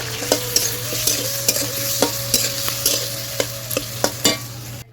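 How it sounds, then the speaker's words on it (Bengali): Potatoes stir-fried with spices, salt and turmeric crackle steadily in a pan under a rhythmic series of sharp spatula clanks, close and loud. "এখন মশলা দিয়ে আলু দিয়ে কষাবো।"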